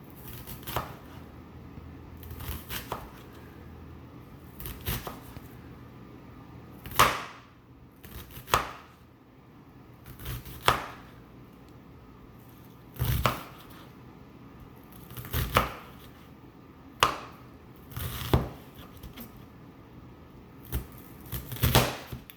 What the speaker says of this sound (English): Take the side and slice down.